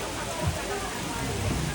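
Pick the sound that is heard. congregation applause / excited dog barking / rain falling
rain falling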